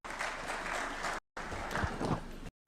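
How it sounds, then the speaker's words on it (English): A crowd at a Kenyan government event applauding steadily, a dense wash of many hands clapping that cuts off briefly and then resumes. "A clap for Francis Atwoli."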